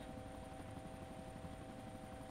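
A helicopter in the City Life RPG II video game, its rotor thumping in a steady rapid chop under a constant engine whine, unbroken and fairly quiet throughout.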